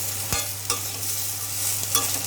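Carrots and green peas frying in a pan for fried rice, an even close sizzle with a couple of faint spatula knocks, no voices.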